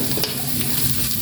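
Spice paste for spicy lompong frying in a pan with a steady sizzle, stirred close up for a brief moment, with no talking.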